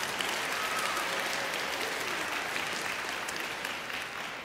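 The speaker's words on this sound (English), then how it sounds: "You can give yourselves a clap." A children's audience at a talk on dinosaurs and Genesis claps for themselves, a continuous even wash of many small hands, moderately distant and unbroken throughout.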